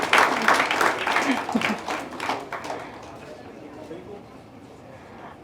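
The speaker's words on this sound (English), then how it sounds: "Can we have a big round of applause?" Applause at an Ayurveda Day award function, a burst of clapping mixed with voices that fades out after about three seconds, leaving a quieter room before a sharp sound at the end.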